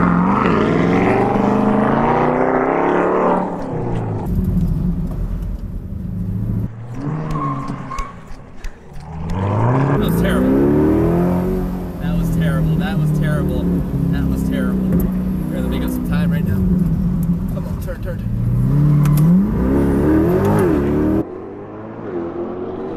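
A C8 Corvette or Porsche Cayman S sports car revs hard through first and second gear in manual mode, its loud engine rising in pitch with a gear change midway and tyre noise, while people talk over it.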